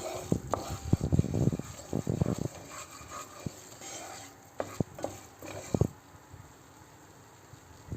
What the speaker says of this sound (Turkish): Unumuzun kokusu gelene kadar karıştırıyoruz.